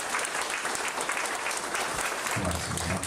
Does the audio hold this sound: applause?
yes